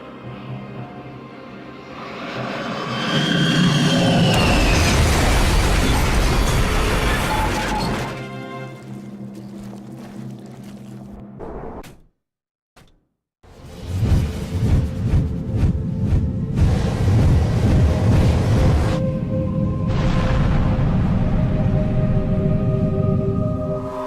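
A reactor explosion in a Halo 2 cutscene unfolds as a loud, long rumbling blast with heavy crashing, a brief near-silent gap, then a renewed roaring surge of debris and low booms.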